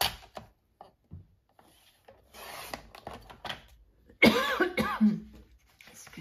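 A person making small handmade notebooks coughs once, harshly and loudly, partway through. Soft rustling and scraping of paper fill the quieter moments around it.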